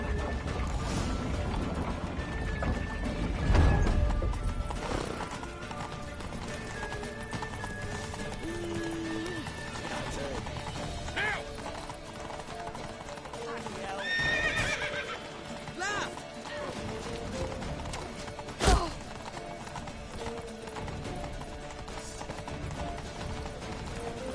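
Horses whinny and neigh several times over steady clip-clop hoofbeats in The Witcher video game, with a busy, bustling background and occasional crashes.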